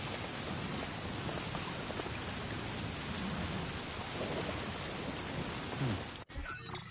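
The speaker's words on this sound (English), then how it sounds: "Pouring down raining." Heavy rain pours steadily in Death Stranding 2 as a dense, close, continuous wash with rumbling low end, cut by a brief dropout near the end.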